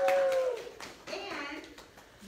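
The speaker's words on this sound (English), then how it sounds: "Let's give a big round of applause." Children and adults at a pre-K library story time clap briefly, a short scattered burst of hand claps mixed with voices talking over it.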